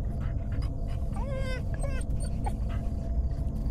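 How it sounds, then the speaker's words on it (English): Dog in the Carson House game of Fears to Fathom, close by, whimpering in a few rising, whiny cries midway through over a steady low background hum. "Oh, we have a dog."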